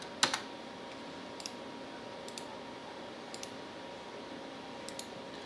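Faint keyboard typing during cabinet design work in VCarve Pro: a sharp cluster of key clicks at the start, then a few sparse light taps spread across a quiet background.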